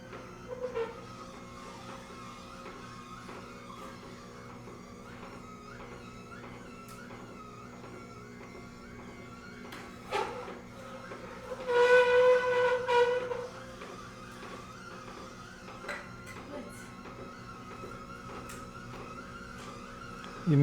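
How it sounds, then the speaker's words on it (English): A household juicer making juice runs in the background as a low, steady mechanical drone, with a louder grinding, whining burst around the middle, all fairly faint and distant. "Sorry, my wife is making juice."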